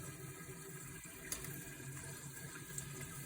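Water runs steadily into a toilet cistern from a partly opened valve, a faint continuous rushing and trickling fill with no talk.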